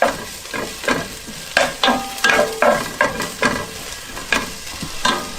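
Garlic sizzling and frying in a pan while being stirred, with repeated scraping strokes over a steady crackle, close and fairly loud, no talking.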